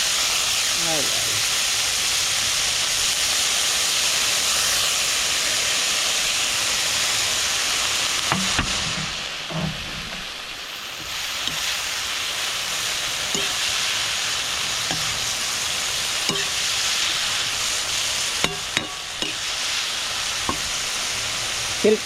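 Pako fern and mushrooms sauté in a pan, a loud steady sizzle with intermittent spoon stirs and clanks, a brief dip midway, and a voice speaking at times over the frying.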